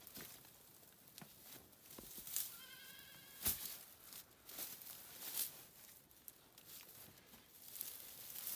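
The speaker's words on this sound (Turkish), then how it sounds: "Koyunlar." Lambs and sheep bleating in a village barn, one clear bleat among scattered faint calls, shuffling and pattering steps, heard quietly at a distance.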